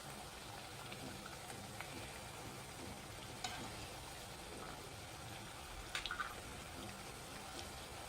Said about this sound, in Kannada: ಫ್ರೆಂಡ್ಸ್ ನೋಡಿ ಇನ್ನೂ ಒಂದು ಸ್ವಲ್ಪ ಫ್ರೈ ಆಗಬೇಕು.